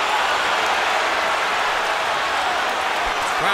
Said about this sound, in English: Crowd is now rising in the excitement